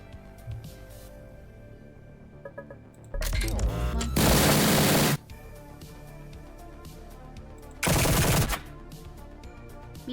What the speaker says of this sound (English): Fire weapon.